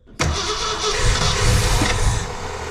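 A 1966 Ford Fairlane with a 390 FE V8 and 4-speed, unrun for about 20 years, cranks briefly, then fires and settles into a loud, rough, steady idle that rises slightly, close up.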